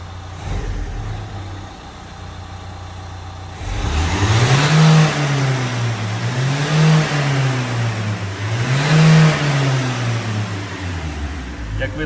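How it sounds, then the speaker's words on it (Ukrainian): A 2013 Renault Kangoo 2 with a 1.5 dCi diesel engine and a turbo pressure sensor fault idles with a low steady rumble, then revs up three times in rising and falling surges, heard up close. "Зараз погазуємо"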